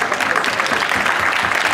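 An audience claps steadily and densely for pageant contestants after a catwalk round, in a continuous, fairly loud wash of applause.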